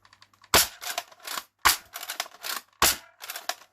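X-Shot Pro Series Longshot toy blaster firing four sharp snapping shots at steady intervals, each followed by a short rattling clatter, close and loud with no talking.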